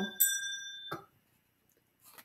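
An ice pop cart's bell rings: a bright ding with a lingering tone, then a second shorter strike, then near silence, fairly faint.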